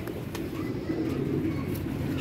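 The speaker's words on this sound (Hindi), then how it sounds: "इसी तरह के कबूतर उड़ते हैं लोगों के।" Soft, low pigeon coos roll on steadily through the whole stretch, with no voices.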